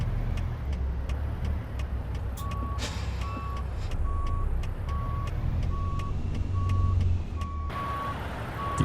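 A truck's reversing alarm beeps at a steady, even rhythm while backing up in American Truck Simulator, with a low engine rumble beneath and occasional clicks and hisses.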